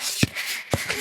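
Paper flight strips being forced into an overfull strip box at an air traffic control tower, giving a hissy rustling scrape with two sharper knocks, close by and with no voices.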